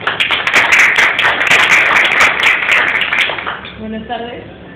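An audience at a poetry book presentation claps for the author, a dense burst of applause that holds for about three seconds and then fades as a voice begins speaking.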